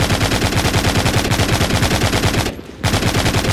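Rapid automatic gunfire from a wide-spreading weapon in the mobile game The Walking Zombie, a steady loud stream of shots that cuts out briefly for a reload pause before resuming.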